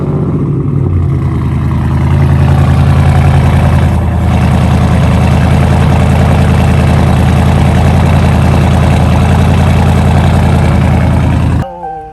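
A Dodge Charger 392 Scat Pack V8 idles steadily and loudly after starting on a mild day, a deep continuous rumble with one brief surge early on before the sound cuts off near the end.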